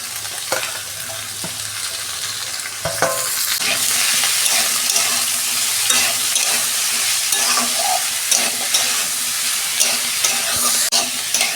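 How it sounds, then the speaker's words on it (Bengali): Snake gourd pieces tossed into a pan of potatoes fried for two minutes give a steady, loud sizzle that swells when the vegetables go in, with occasional stirring scrapes throughout. "এই যে আলুটা আমি 2 মিনিট ভেজে নিয়েছি, এবার চিচিঙেগুলো দিয়ে দিচ্ছি।"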